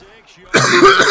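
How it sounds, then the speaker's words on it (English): A single harsh cough bursts out suddenly after a brief quiet moment, close and loud. "Now I'm coughing from screaming."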